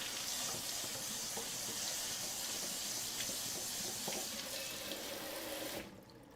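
A kitchen sink sprayer jetting water over quinoa being rinsed, a steady loud hissing rush that stops abruptly near the end, leaving quiet.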